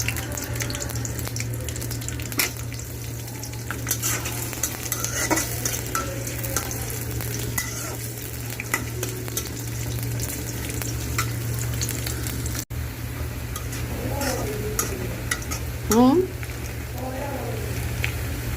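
Oil and green chillies sizzling in a pan, stirred now and then, for a vegetarian dish of ash gourd and lentils. A steady hum runs underneath, with some talk and a short running-water sound.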